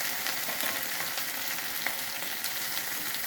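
Ginger garlic paste and turmeric frying in hot oil, giving a faint, even crackling sizzle heard close and alone, with no talk.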